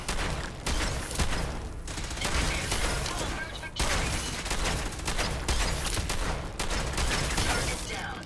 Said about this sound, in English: I don't know where to really shoot the rad scorpions